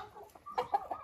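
Laying hen giving soft, short clucks close by in a backyard flock, a few quick murmuring notes with slight rises, no other sounds over them.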